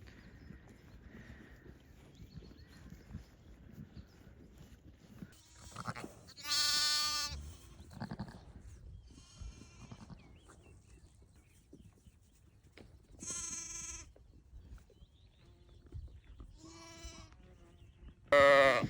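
Sheep bleat on a farm in lambing season, with four loud, wavering calls at irregular intervals, the last one close. Quieter shuffling and hoof noises fill the gaps.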